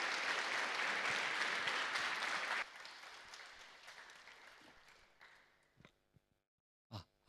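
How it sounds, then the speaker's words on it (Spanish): A church congregation at a Sunday service claps loudly, then the applause thins and fades out, ending in a few scattered claps and a cough. "Vamos a recibir con un fuerte aplauso"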